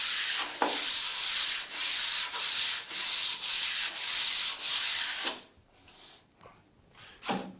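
Hand sanding of a wooden table along the grain, loud repeated rasping strokes in a steady back-and-forth rhythm, close up and alone, ending in a quieter stretch with a few faint scrapes.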